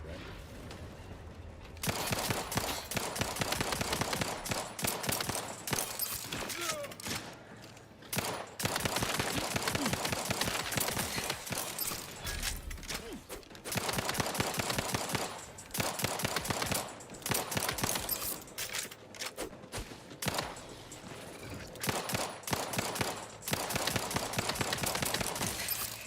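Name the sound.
gunfire in video game The Outer Worlds 2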